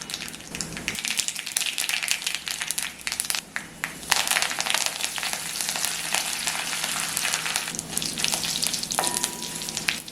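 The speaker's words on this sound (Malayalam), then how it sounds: "ഒരു പാനിലോട്ട് വെളിച്ചെണ്ണ ഒഴിച്ച് എണ്ണ ചൂടായി വരുമ്പോൾ കടുകും വറ്റൽ മുളകും കറിവേപ്പിലയും ഇട്ട് കൊടുക്കാം" Mustard seeds, dried chillies and curry leaves crackle and spit in hot coconut oil, a dense, loud, close sputtering that swells louder after a few seconds and keeps popping throughout.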